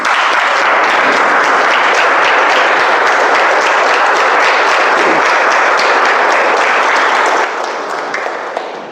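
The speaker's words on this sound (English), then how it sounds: "can we all stand and clap for our speaker" Loud, dense applause from a standing audience at a Toastmasters impromptu speaking workshop, sustained clapping for about seven seconds before it starts to thin and fade.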